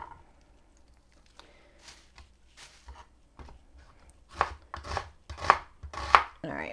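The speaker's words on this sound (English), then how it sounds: "we're just dicing up a half an onion." Knife dicing half an onion on a cutting board, starting with sparse soft taps and then a quicker run of sharp, close chops, with no speech over it.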